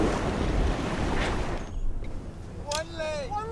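Strong gusty wind roars across a lake around a boat, with water rushing, then quieter as voices speak over it near the end.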